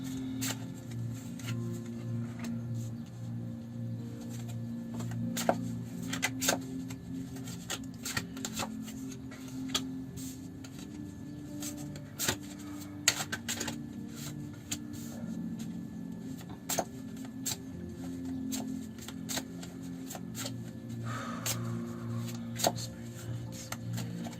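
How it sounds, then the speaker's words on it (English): Soft, repeated papery riffling and tapping of tarot cards being shuffled, quiet and close, continuing steadily with no talking. "I'm just going to go quiet now while I shuffle the cards."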